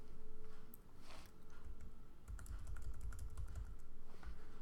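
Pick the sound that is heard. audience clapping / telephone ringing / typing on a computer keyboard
typing on a computer keyboard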